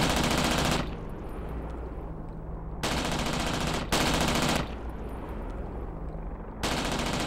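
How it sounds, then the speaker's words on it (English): Sustained automatic gunfire in DCS World strikes an attack helicopter, coming in loud dense bursts roughly two seconds long that alternate with quieter gaps of rumbling engine noise. "And here we are taking fire"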